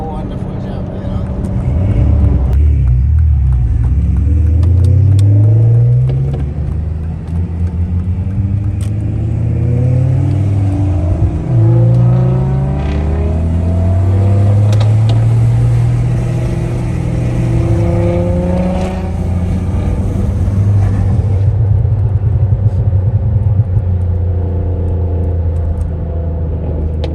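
A big turbo car drives off on its first run, its loud engine revving and pulling hard through the gears with repeated rising tones, heard up close from inside or near the car.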